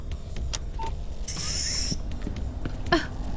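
A creaking door to a morgue opens, giving a few short squeaks and one longer high-pitched groan over a low background rumble, close and moderately loud.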